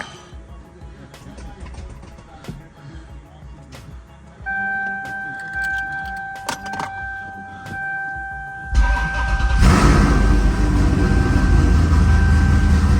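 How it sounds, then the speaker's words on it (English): After quiet shuffling and a steady electronic chime, a Corvette's LS V8 engine cold-starts through a new high-torque starter, cranking and firing up, then settling into a loud, close running rumble. "Just even the cold start sounds a whole lot better."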